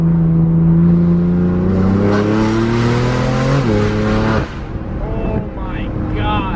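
BMW F82 M4 with Armytrix valve exhaust in a tunnel, a loud droning engine note climbing steadily under acceleration, then a sharp drop and crackling off-throttle pops, with people talking over the end.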